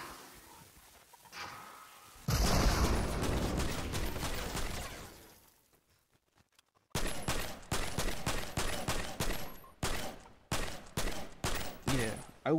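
Primal Rifle gunfire in Fortnite Save the World, a loud sustained burst followed by a pause, then a rapid, rhythmic string of close, sharp shots.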